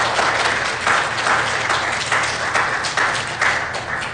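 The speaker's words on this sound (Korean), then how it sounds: "환영의 박수 하겠습니다." A church congregation at a Sunday worship service claps in welcome, a sustained, fairly loud round of many hands with slight swells in rhythm, and no talking over it.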